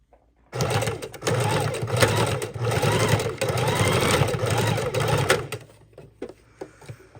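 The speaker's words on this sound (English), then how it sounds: "now let's go ahead and sew this down right there on my page" Sewing machine stitching a fabric tie onto a miniature junk journal page, a loud steady close mechanical whirring run of about five seconds that starts abruptly, then winds down into a few faint clicks.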